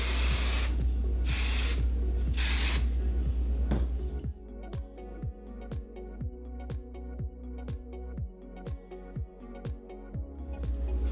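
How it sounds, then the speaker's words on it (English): Hairspray hisses in short spritzes onto styled hair, three bursts of spray in the first few seconds followed by quieter tapping and handling sounds. "I'll give it a little spritz of hairspray"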